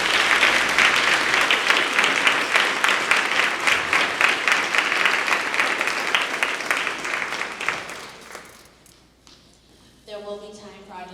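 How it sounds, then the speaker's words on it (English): An audience at a political panel discussion claps for the judicial candidates, a sustained round of many hands lasting several seconds before fading away, after which a voice begins speaking alone. "How about we give our judicial candidates a round of applause for their thoughts?"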